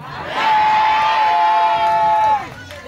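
A church congregation at a Sunday service erupts in loud shouting and cheering, voices swelling together for about two seconds before fading back into background murmur.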